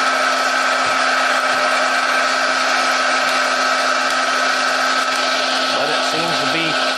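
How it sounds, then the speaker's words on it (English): A DIY forge's blower fan runs at reduced speed, a steady loud whirring drone with a constant hum that holds unchanged throughout, with no speech. "if we turn the volume of air down, the speed of the fan, so it blows in there a little bit slower"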